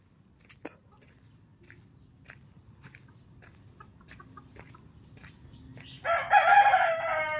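Near the end a rooster crows loudly nearby on a farm, following a stretch of quiet background with scattered small clicks and rustles.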